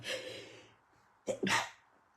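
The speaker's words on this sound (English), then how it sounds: "I'm going to sneeze, sorry." A breathy intake followed by a single sharp sneeze, close and fairly loud, with no talking.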